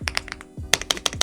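An Aula F75 budget mechanical keyboard, stock out of the box, is typed on. Crisp, close keystrokes tap in a quick irregular run with no voices.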